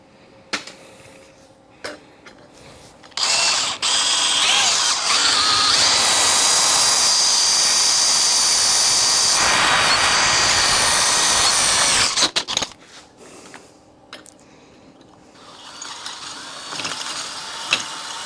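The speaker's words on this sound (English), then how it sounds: "We'll drill that out, we'll countersink it" A power drill bores holes through a heavy farm hook welded from old horseshoes, running loud and steady for about nine seconds before stopping, with quieter shop noise before and after.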